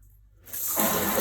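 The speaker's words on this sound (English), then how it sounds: "Now I just turn the shower on to full" Hot shower turned on full, jumping from quiet to a loud, steady broadband hiss of spraying water that holds close and constant, with no talking.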